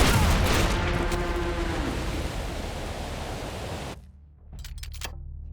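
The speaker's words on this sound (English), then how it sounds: "Well, I guess shoot him in the head" Gunfire in the video game Hard West 2, a dense, loud burst of shooting that roars for about four seconds, then cuts off, followed by a few sharper, brief cracks.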